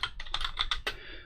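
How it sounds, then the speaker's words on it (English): A loud mechanical keyboard clatters close by with about eight sharp, separate keystrokes in an uneven rhythm, each one a bright click, and no voices. "It's a mechanical keyboard and it is very loud."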